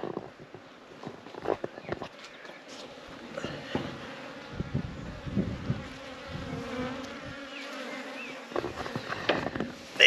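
Honey bees buzz steadily and close by around a bait hive swarm trap, a swarm's drone rising and falling with occasional louder passes and light tapping thuds underneath.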